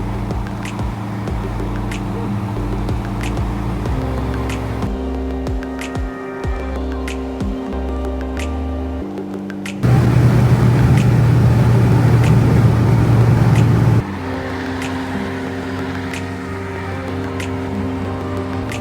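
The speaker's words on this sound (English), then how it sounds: "We're getting back onto the freeway" Car cruising on a freeway heard from inside, a steady low engine and road drone that shifts in tone a few times, with a louder, rougher stretch of road noise midway, no talking.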